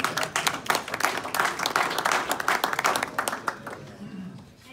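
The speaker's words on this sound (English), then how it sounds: "So round of applause to our students." Audience in a university hall applauds students, a moderate round of clapping with some individually distinct claps that tapers off toward the end.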